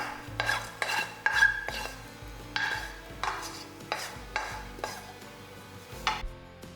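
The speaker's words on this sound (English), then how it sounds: "Put this mixture into a separate bowl and set it aside to cool." Cooked burrito filling is scraped from a pan into a separate bowl with a utensil, giving a series of close, moderately loud scrapes and clinks in an uneven rhythm, with no talk.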